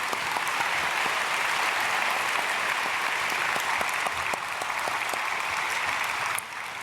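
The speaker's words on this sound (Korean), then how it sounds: "우리 박수로 인사드리겠습니다." Church congregation applauding during a Palm Sunday worship service, a steady, dense wash of clapping from a large crowd that holds evenly for the whole span and eases slightly at the very end.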